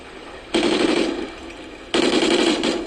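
Automatic weapon fire in a shooter game played on an Xbox 360, two loud rattling bursts of about half a second and a second each, separated by a pause with quieter game ambience, no talk.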